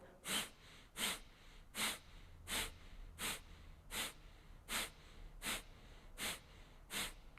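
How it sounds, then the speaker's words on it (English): Ten sharp, forceful exhales through the nose repeat at an even, quick pace during a guided rapid breathing exercise, each puff close and breathy with short quiet gaps between. "a slightly quicker breath with a focus on that exhale being pushed out"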